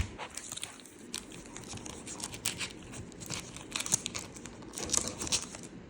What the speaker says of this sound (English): Gonna be continuing opening these cards.